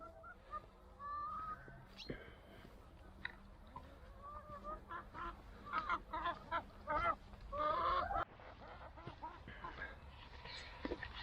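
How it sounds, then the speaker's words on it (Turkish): Chickens cluck and squawk close by, with a few louder honking calls breaking in over a quiet outdoor background. "Şuralarda geziniyorlar tavuklarımız da."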